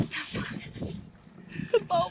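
A puppy whimpers and yips in short, high-pitched squeaks near the end, mixed in with people talking nearby on a boat.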